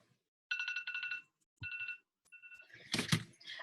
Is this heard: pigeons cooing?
no